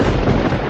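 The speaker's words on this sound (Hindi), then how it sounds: "ये बिना मौसम की गरजती हुई बारिश हमें क्या संकेत देती है?" Rumbling thunder with heavy rain in an unseasonal storm in a Hindi moral story, heard as a short, loud, dense roar with no voices.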